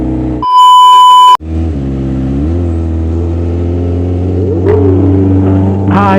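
A Kawasaki ZX25R motorcycle fitted with an SC Project exhaust revs on a village street. A short electronic beep comes first, then a loud, close, rising engine roar with climbing pitch toward the end.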